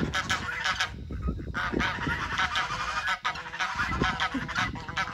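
Geese on a farm, including curly-feathered ones, honk loudly and repeatedly at close range, their calls overlapping in a noisy chorus.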